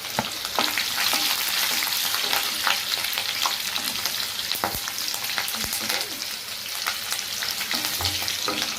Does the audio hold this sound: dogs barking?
no